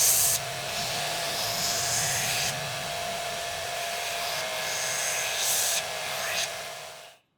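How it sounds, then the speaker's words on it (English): A belt sander grinds down a scrap wood top for a hollow body guitar, a loud continuous close-up roar and hiss that swells slightly in places and cuts off at the end. "so I'll do that on the belt sander."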